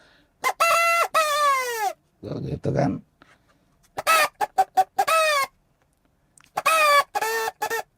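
A chicken trumpet mimics a rooster's crow in several bright, wavering bursts, close and loud, with short spoken remarks between the calls.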